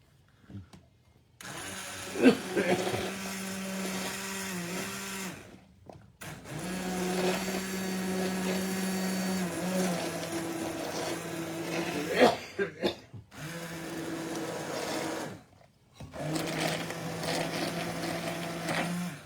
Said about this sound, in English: I want to do is puree them with a stick blender